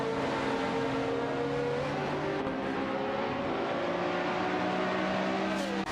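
High-performance GT race cars in an AI-driven video game race, engines droning loudly and steadily with shifting pitch as several cars run close together, no talk.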